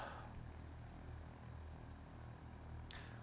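A light propeller aircraft's engine idles just after start-up, a steady low droning rumble heard at a fairly faint level without talk.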